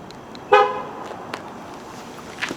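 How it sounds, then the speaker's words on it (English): A Mazda's security system chirps once, a short bright electronic beep from a nearby parked car in a lot, followed by quieter traffic noise and a faint second chirp near the end. "Mazda security system."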